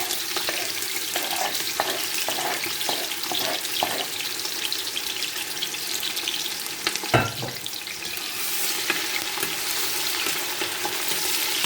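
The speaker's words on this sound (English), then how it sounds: "Allow it to saute for a minute." Chopped onions sauté in a hot pan for a spinach sauce, giving a steady, close sizzle with light stirring scrapes and one brief clatter partway through; no one speaks.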